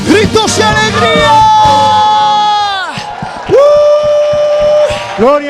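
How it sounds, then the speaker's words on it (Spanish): A church congregation at a live worship service shouts and cheers loudly, with sustained crowd voices and whoops swelling and dipping over several seconds alongside singing. "Gritos y alegría."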